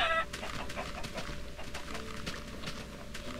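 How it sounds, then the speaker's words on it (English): Chickens cluck in the Minecraft video game, a series of short clucks and squawks repeating close by across a few seconds, with a brief tone at the very start and no talking. "there's a lot of chickens up here"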